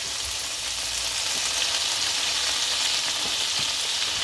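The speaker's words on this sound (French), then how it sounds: "j'ai le beurre qui commence à devenir noisette" Butter frying in a pan as it turns nut-brown, a steady, dense sizzle and crackle held close and loud throughout, with no voices.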